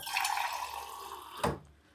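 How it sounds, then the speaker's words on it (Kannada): Water is poured into banana stem juice, a short steady splashing pour that ends with a brief louder splash. "ಸ್ವಲ್ಪ ನೀರು ಹಾಕ್ಕೊಂಡು"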